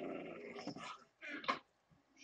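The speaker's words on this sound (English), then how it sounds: "How about that dog keeps growling?" A dog in the Minecraft video game growls in a few short, rough bursts separated by brief pauses, moderately close and fairly quiet, with no other sounds.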